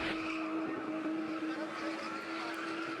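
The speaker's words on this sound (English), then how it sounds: "This is spinning, a turbocharged sport where drivers spin cars in quick, tight circles" Cars spun in quick, tight circles at a Johannesburg spinning event, a continuous high tire squeal over a steady engine drone, moderately distant and sustained.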